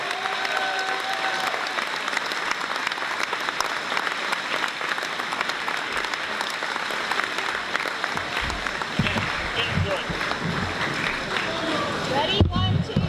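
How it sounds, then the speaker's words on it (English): Loud, sustained applause from a gymnasium crowd for a Highlands basketball Hall of Famer at a Knoch at Highlands game, with dense clapping and cheering running steadily throughout. "Let's have a nice round of applause for Highlands Basketball Hall of Famer"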